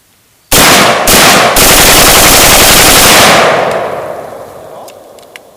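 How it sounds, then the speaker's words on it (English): Semi-automatic rifle bump-fired from the shoulder, a sudden, extremely loud burst of rapid shots run together into a roar, followed by a long echoing decay and a few faint metallic clinks. "I haven't tried this personally in a long time as the shoulder bump fire, but I'm gonna go ahead and try it"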